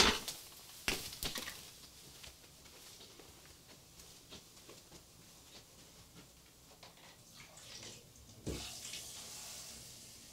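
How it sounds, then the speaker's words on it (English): Tap water runs into a sink to fetch clean water for painting, a steady soft splashing hiss with a few louder clunks and bursts at the start and near the end, no voices. "I'm going to get some clean water because my inky dropper has totally colored my water"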